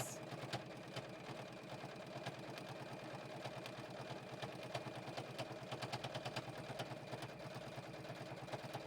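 A JUKI sewing machine back tacking stitches on a storage roll-up project runs in a steady, rapid mechanical rhythm, fairly quiet and close, with no talking over it.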